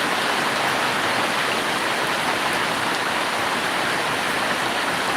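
Heavy rain and rushing floodwater during a Kalbaishakhi storm in Cumilla, with water overwhelming a drainage pipe into a canal; a steady, dense, loud hiss of pouring water continues unbroken, with no voices.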